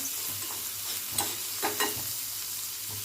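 Cowpea pods roasting in a hot pan with a little oil, a steady close sizzle and hiss with occasional scraping stirs and light taps, no voices.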